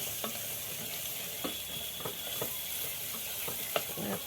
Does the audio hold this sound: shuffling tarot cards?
no